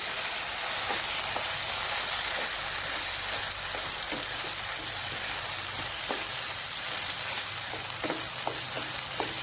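Garlic chili paste sautéing in a pan for Filipino-style red beans, a dense, steady hissing sizzle throughout with occasional soft stirring scrapes, close and fairly loud, without talking.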